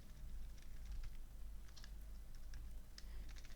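Quick, faint clicks of typing on a computer keyboard patter irregularly over a low steady hum.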